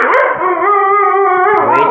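Big dogs bark and howl on a second floor, a loud, close, sustained howl with sharp yips at the start and end, no talking.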